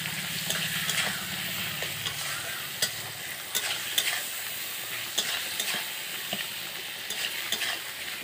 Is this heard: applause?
no